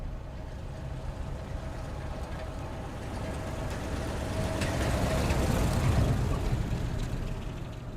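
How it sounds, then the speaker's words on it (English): A car slowly pulls up and parks beside a large moving truck on the grounds of an estate, a steady low engine rumble that swells slightly as it draws near, then holds under a faint background. "The car itself slowly pulls up, parking near a large moving truck"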